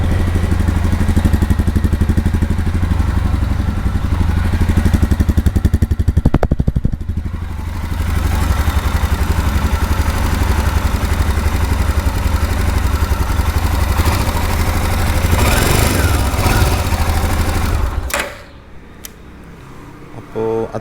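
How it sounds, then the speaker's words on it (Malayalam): Close, loud idle of a Royal Enfield Himalayan 411 single-cylinder motorcycle, a steady low thumping churn that runs for about eighteen seconds with a brief dip midway, then cuts off abruptly near the end. "എൻജിൻ്റെ സൗണ്ടൊക്കെ ഉണ്ടല്ലേ"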